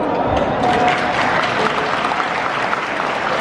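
Audience applause at an education conference keynote for school principals in Indonesia, a loud sustained burst of clapping from a large crowd that holds steady throughout.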